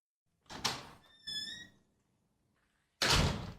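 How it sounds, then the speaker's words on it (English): A house front door handled as someone enters: a sharp thunk, a brief squeaky creak, then a louder thud or latch closing a couple of seconds later, close and isolated in a quiet room. "I walked up to the front door and knocked, before entering the code and walking inside."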